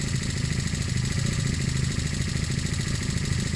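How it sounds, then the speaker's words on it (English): A Honda CB250 Nighthawk motorcycle engine, freshly carb-cleaned, runs steadily at a low, throbbing idle-like pitch, loud and close, with no clear rise or fall in revs. "listening to the way this revs now, the jetting seems appropriate"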